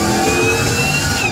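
A Dodge Challenger Hellcat V8 revs hard while driving, a loud sustained engine roar with rising whine tones and no voices over it.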